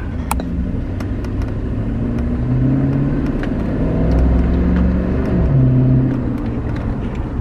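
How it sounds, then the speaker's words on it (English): A GMC truck engine fitted with a cold air intake, revving in several close, loud swells that rise and fall over a steady rumbling idle, with an airy intake whoosh riding along under the engine tone. "I love the cold air intake I have on the truck. You can actually hear the air getting sucked in."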